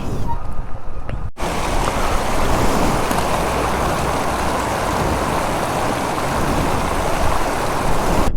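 A small mountain waterfall stream on the high-altitude road from Sarchu to Leh in Ladakh gives a steady, close, full rushing wash of water. It starts after a brief cut near the opening and runs unbroken.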